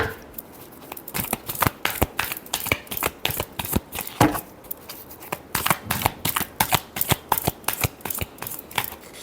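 Tarot cards are shuffled by hand in a steady run of crisp, rapid riffling snaps and slaps, close and clear with no talking.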